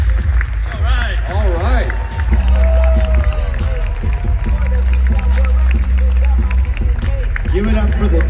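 Clapping and cheering from a crowd at a growth conference in Los Angeles, loud and continuous behind someone talking over a microphone and background music.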